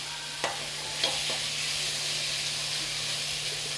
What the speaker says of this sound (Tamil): இது கொஞ்சம் எண்ணெயில் நல்லா வதங்கட்டும்